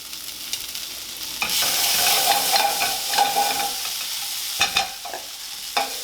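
Broccoli, peppers and garlic stir-fried in a pan, a loud close sizzle that swells as the garlic goes in, with repeated clattering tosses and scrapes of the spatula and no speech.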